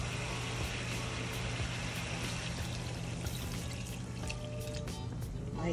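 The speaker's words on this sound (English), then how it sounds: "Let's add my cup of water." A cup of water pours into a pot of Jamaican curry goat, a soft splashing trickle with a few drips near the end, quiet and close with no talk.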